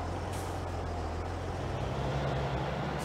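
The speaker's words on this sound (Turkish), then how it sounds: "Bu da ne gürültülü limotmuş lan" Noisy Unimog engine in Farming Simulator 22, a steady low droning rumble held throughout at constant level with no speech over it.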